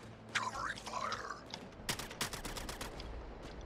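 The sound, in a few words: gunfire in the video game Suicide Squad: Kill the Justice League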